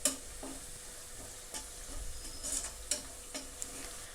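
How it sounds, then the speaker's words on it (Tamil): Biryani masala powder frying in hot oil with onions over medium heat, a steady close sizzle with occasional spoon stirs and scrapes against the pan, no voices. "இதை வந்துட்டு 1 நிமிஷத்துக்கு மீடியம் ஹீட்டில் நல்லா ஃப்ரை பண்ணிக்கோங்க"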